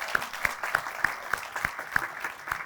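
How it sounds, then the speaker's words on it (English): An audience at a senior wellness center groundbreaking ceremony gives a round of applause, with steady, evenly spaced claps that sound like a small, modest crowd. "Let's give him a round of applause."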